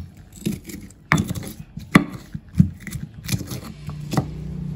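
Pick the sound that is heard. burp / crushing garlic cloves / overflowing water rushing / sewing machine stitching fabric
crushing garlic cloves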